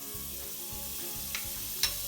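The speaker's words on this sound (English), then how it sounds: "we will add the butter" Butter melts over medium heat in a pasta pot, giving a faint, even sizzle with a couple of small clicks near the end, quiet and close.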